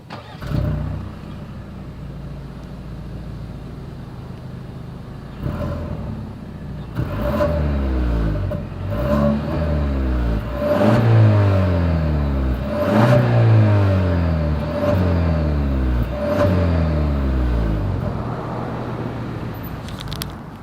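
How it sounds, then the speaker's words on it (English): A 2021 Genesis G80 sedan's dual exhaust idles, then rises through a series of sharp, loud revs that climb and fall back in a regular rhythm, heard alone without talk. "As always, here is that exhaust clip."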